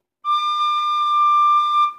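An Irish whistle played with an alternate D fingering, the middle D hole closed, sounds one clear, steady note that holds for nearly two seconds, loud and alone.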